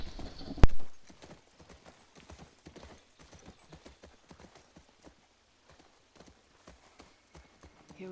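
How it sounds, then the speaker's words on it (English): Horse hooves clip-clop in The Last of Us Part II video game, a faint, steady walking rhythm after a brief louder knock at the start, with no talk. "Dina, don't run off of my bloody horse, Shimmer."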